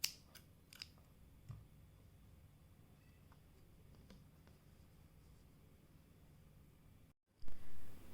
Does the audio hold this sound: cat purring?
no